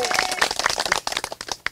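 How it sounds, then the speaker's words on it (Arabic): Clapping from an audience honouring a prize-winning student at a rural award ceremony, a short burst of sparse, uneven claps close by, ending after under two seconds. "وأسمع تصفيقة للطالب محمد عبد الإله يحيى"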